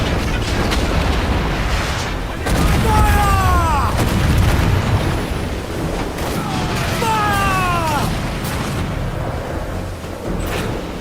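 Ship cannons roar in Assassin's Creed IV: Black Flag as loud booms in two volleys over a heavy rumble, with brief whistling sweeps overhead and voices mixed in.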